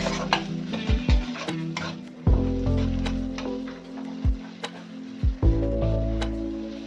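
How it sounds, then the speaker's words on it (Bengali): Matar paneer masala being mixed and fried in a pan: uneven spoon scrapes and dull knocks against the pan over a low sizzle, fairly loud and near. "সব কিছু একসাথে মেখে একটু ভেজে নিচ্ছি।"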